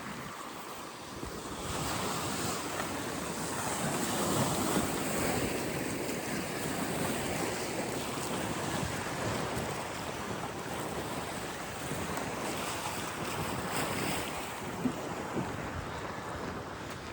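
Strong coastal wind roars steadily against the microphone on a chilly January morning, mixed with the broad wash of surf, with no voices.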